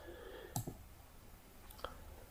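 Two faint, close mouse clicks come about a second apart during quiet computer work in a circuit design program, with low room hiss and no talking.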